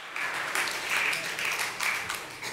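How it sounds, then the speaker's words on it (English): Audience applause at a Mother's Day talk, a steady dense patter of many hands clapping at moderate volume for a couple of seconds, with no voices over it. "Yes, applaud all the mean moms"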